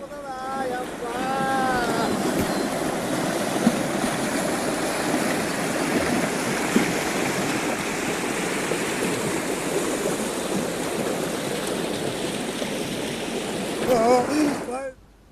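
Floodwater rushes through overflowing streams after two days of heavy rain in Karnataka, a loud, continuous roar of churning water mixed with wind buffeting the microphone, with a voice briefly heard at the start and end.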